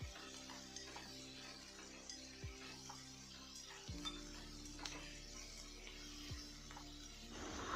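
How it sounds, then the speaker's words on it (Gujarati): Onions sautéing in oil with salt for a soya chunk curry make a faint, steady sizzle with occasional soft stirring clicks, quiet and without talk. "ડુંગળી આપણે ફટાફટ સાતડવી હોય તો તેની અંદર મીઠું નાખી દઈએ એટલે ફટાફટ સતડાઈ જાય"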